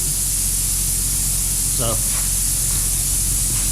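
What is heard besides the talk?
spray foam insulation being sprayed in building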